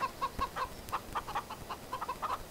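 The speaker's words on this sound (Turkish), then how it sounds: "Tavuklar geldi bakın. Yumurtlayacaklar, yumurta yapacaklar." Chickens in the Farming Simulator 2013 video game cluck in quick, repeated bursts, a fairly faint but steady chorus of short clucks with no talking.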